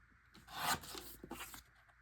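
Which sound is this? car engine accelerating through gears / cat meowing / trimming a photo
trimming a photo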